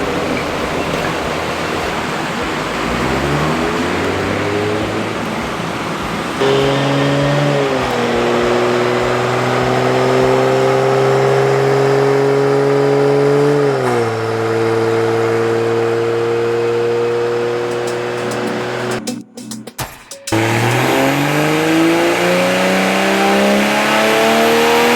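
A Toyota Supra tuned on E30 fuel revs hard on a dyno, its engine note climbing through gears in rising sweeps, loud and close, ending in a brief cut before revving again.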